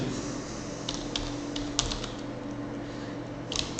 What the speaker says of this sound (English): then I will type a name, training session.